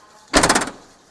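Rear door of a used Toyota Commuter van slammed shut once, a loud close metallic thud with a brief rattling tail, heard alone.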